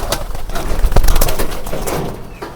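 Pigeons coo softly and repeatedly amid a busy, rustling background with occasional louder knocks.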